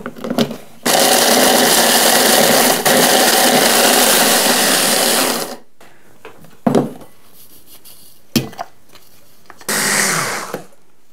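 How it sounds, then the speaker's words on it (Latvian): Biscuits finely crushed in a kitchen blender for a cheesecake base, a loud motor roar for several seconds, then short stop-start pulses separated by silence. "Cepumus vajag sasmalcināt ļoti smalki, tā lai nepaliek nekāda gabaliņa."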